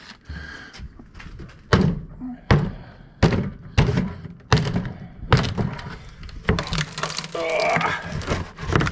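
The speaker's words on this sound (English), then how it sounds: "And I'm destroying their pretty packaging." The cardboard packaging around an Eastwood 12-inch box and pan brake is ripped open close by, in a string of sharp, loud tearing bursts and thumps spaced about a second apart.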